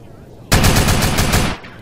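Automatic gunfire in the GTA San Andreas video game, a single loud, close burst of rapid repeated shots lasting about a second that cuts in abruptly and stops just as suddenly.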